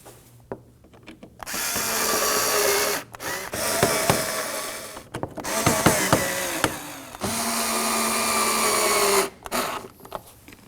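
A power driver snugs Phillips screws into a 2016-2020 Kia Sorento front bumper cover, several close whirring bursts of a few seconds each separated by short pauses and clicks.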